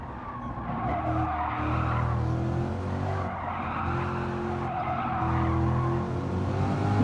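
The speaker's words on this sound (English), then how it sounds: "And here the tyres scrabbling for grip." Car tyres squealing and scrabbling for grip during an AMG GT versus C7 Corvette comparison, a continuous loud skid over engine drone with no talk.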